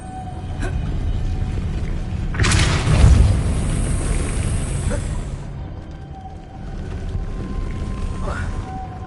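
Depulso force-push spell cast in a Hogwarts wizarding video game: a sudden heavy whooshing boom with a bright hiss that lingers a few seconds over a low rumbling game ambience, with a voice speaking faintly.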